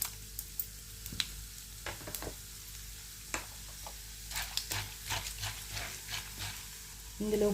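Tempering spices such as chana dal fry in hot oil for Telugu-style mango pulihora, a soft sizzle broken by scattered clicks and scrapes of stirring in the pan.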